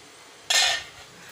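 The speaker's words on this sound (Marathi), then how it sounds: "आता आपण झाकण काढून घेऊया." A metal lid comes off a cooking pot of thick gram-flour pitla on a kitchen stove, giving one sharp, close scraping clink that fades over about half a second, with no one talking.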